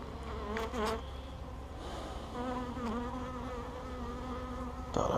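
A thick, close drone of honeybees fills the air around an opened hive frame during an inspection, steady and loud, with swelling tones and a sharp rise right at the end.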